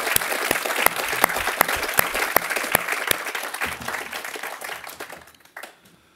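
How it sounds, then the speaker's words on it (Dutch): Audience at a mayoral swearing-in ceremony in Voorschoten applauding the departing mayor, with dense clapping and a few sharp, distinct claps standing out, fading and thinning toward the end. "een hartelijk applaus voor wat jij gedaan hebt voor Voorschoten"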